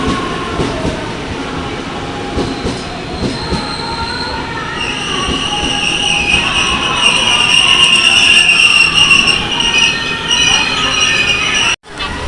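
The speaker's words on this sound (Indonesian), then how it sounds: "KRL tujuan stasiun Pasar Senen via Kampung Bandan sudah tiba di peron" A KRL commuter train pulls into a station platform on the Tangerang to Pasar Senen line, loud rolling wheels and rail rumble with sustained high metallic brake squeal building as it slows, then an abrupt stop.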